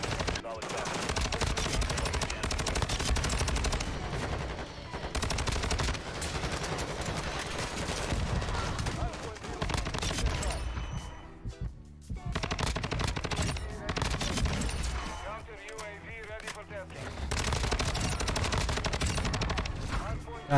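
Video game assault rifle fire roars in long, sustained automatic bursts, loud and dense, with short gaps between volleys and a voice talking over it at times.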